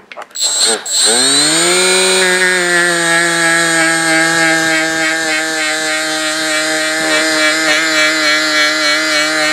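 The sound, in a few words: buffing scoring on a chainsaw piston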